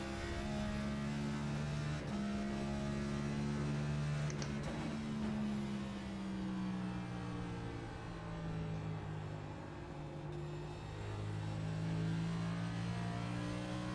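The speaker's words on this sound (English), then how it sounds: "Apply throttle on a really good exit." NASCAR NextGen stock car engine in the iRacing sim at Milwaukee, revving steadily under throttle out of a corner, a loud continuous drone whose pitch rises and dips, heard alone with no talk.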